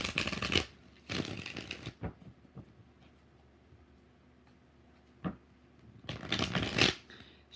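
Tarot cards are riffle-shuffled in several quick, crisp bursts, with quiet gaps and a few soft taps between them, close and fairly faint.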